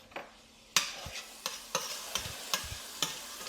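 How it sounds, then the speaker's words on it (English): Garlic sizzling in butter in a pan, a soft frying hiss broken by several sharp stirring scrapes and clinks at irregular intervals, heard close with no one talking. "Now you let the garlic sit in there. You hear it."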